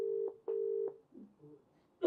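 Phone call dialing on a handset, with a few steady tone beeps separated by short gaps, then quieter fluttering tones and a sharp click at the end, heard close and fairly faint.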